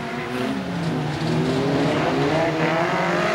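BriSCA Formula 1 stock cars race at Boston, loud engines roaring and revving close by, with pitches sliding up and down as cars pass, and no voices over the din.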